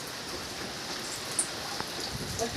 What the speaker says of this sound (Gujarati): વરસાદ એક ધારો વરસાદ જ આવ્યા કરે છે